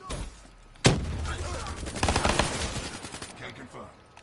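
Rapid automatic gunfire from dual akimbo weapons in a shooter video game, fired with a modded PS4 controller, a sharp loud opening shot followed by a dense sustained burst of fire and game noise.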